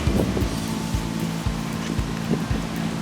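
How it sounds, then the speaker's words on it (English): Gusty wind roars across the microphone outdoors, a loud rumbling wash with periodic low thumps. "I don't feel comfortable with this wind."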